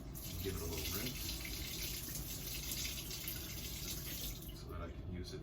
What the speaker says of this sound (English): I'll put it in the sink, give it a little rinse,